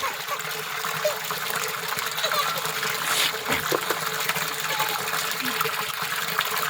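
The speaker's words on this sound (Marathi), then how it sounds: "काय गार पाणी लेकरावर टाकती" Cold water gushes from a pipe over a child outdoors, a steady close splashing and trickling stream that runs the whole time, with a brief thump near the middle.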